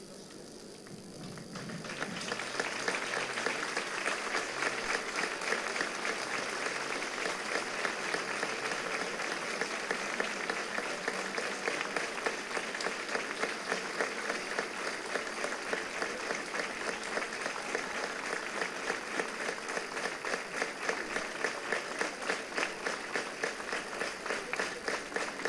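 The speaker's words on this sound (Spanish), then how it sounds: "ofrecer 10 segundos de un fuerte aplauso a la isla de La Palma" Sustained, loud audience applause at a rosary festival romera election in Agüimes, a dense crowd clapping steadily for about twenty-five seconds in honour of the island of La Palma, building quickly and holding an even roar.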